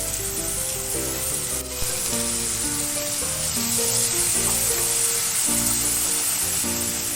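A large tomato drops into a hot pan of jackfruit pickle, with loud, steady sizzling and frying that runs close and continuous throughout, overlaid with faint music.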